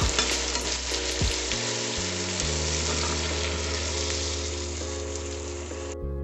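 Onions frying in hot oil for a dhaba style egg masala curry, a loud continuous sizzle with a few clattering stirs near the start.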